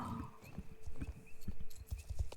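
A horse in the video game Star Stable Online whinnies and then trots, with a steady run of clip-clopping hooves following the neigh, fairly close and clear.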